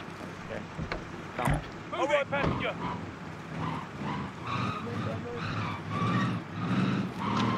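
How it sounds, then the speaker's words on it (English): A truck drives in Call of Duty Warzone, its engine rumbling and tyres skidding continuously under voices talking throughout. "Let's hop in the truck."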